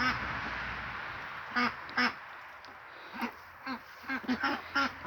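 Several ducks quack in short, separate bursts that come closer together toward the end, over a quiet background.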